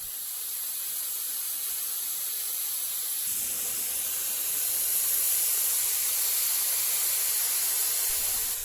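A continuous, even spray hiss from applying Stabond contact cement, close and steady throughout, growing slightly louder partway through with no voices.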